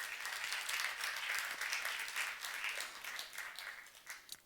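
A large church congregation claps together in sustained applause during a sermon, loud at first and then thinning out into scattered claps toward the end.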